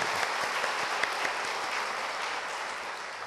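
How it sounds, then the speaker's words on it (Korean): A church congregation during a Sunday service claps for the choir, a short burst of steady applause with a few sharper individual claps standing out, somewhat distant and thinning out toward the end. "우리 찬양대에서 한번 오랜만에 박수 한번 할까요?"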